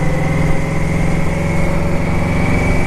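A 2000 Yamaha Venture LE motorcycle engine while riding, a steady loud droning hum with an even pitch throughout, close and continuous with no talk.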